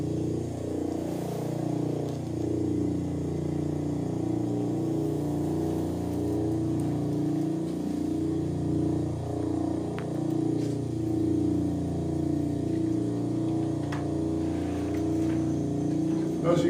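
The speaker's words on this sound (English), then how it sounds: "it says this is the sound of a star." Sound of a star played back at a Sydney observatory, a steady low droning hum with slowly wavering, interlocking tones, continuous and even in loudness, with a few faint clicks over it and no speech.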